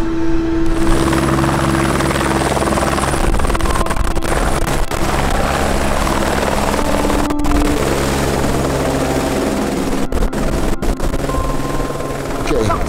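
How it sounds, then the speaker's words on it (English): Helicopter at Lukla airport in Nepal's Himalayas, a loud, steady rotor thrum with whining turbine hum running throughout, close by and continuous, with indistinct voices mixed underneath. "Our plane is coming out, our helicopter from Lukla"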